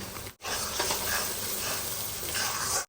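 Steady, loud sizzling of biryani spices frying in hot oil, with faint stirring scrapes throughout and no talking.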